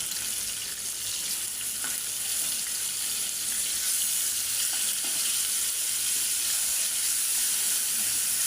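Fish frying in a pan, a steady bright sizzle and hiss of hot oil carrying evenly from start to end, close and moderately loud, with no voices.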